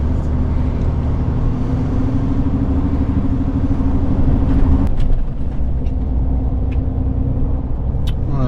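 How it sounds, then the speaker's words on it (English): Slow-moving motorway traffic heard from inside a vehicle on a Monday morning, a steady broadband road rumble with a brief swell and hiss near the middle, no talk. "the traffic's starting to move anyway"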